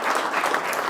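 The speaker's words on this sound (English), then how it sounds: "we'll big round of applause for Noah" A seminar audience in a winter talk series applauds the speaker, a brief burst of dense, steady clapping from a roomful of people.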